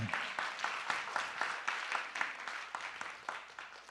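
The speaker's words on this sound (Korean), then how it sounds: "박수 좀 부탁드리겠습니다" Audience in a church during a seminar testimony applauds with a steady, moderately dense clapping that runs continuously throughout, fairly quiet, with no talking over it.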